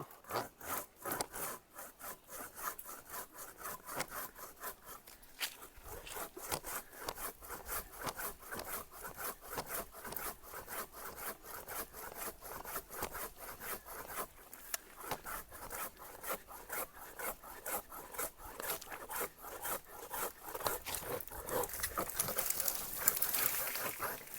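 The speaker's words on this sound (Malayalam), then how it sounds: "ഇതിൻ്റെ ഒരു വലിയ കമ്പ് തന്നെ മുറിക്കാൻ പോവാം" A fiber pole saw cuts through a heavy karingali tree branch outdoors, with steady rhythmic rasping strokes continuing throughout, loud and close, growing slightly busier toward the end.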